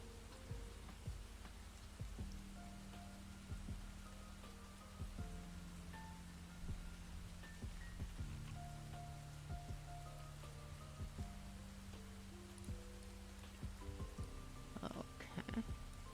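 Steady rain falls throughout, a continuous wash of patter on surfaces with scattered louder drops and a low background hum, no voices.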